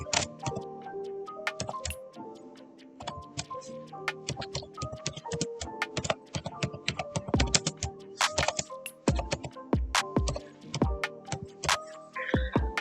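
Keys clatter on a computer keyboard while words are typed in MS Word, a close run of crisp clicks in uneven bursts with brief pauses.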